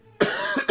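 A person with a sore throat coughs sharply twice in close succession, loud and close to the microphone, with a short rough gap between the bursts.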